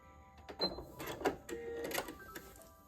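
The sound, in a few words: sewing machine stitching quilt pieces with Aurifil thread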